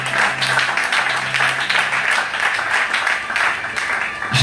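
A congregation applauds at a church service, with dense sustained clapping filling the room, loud and continuous throughout, with a low hum underneath.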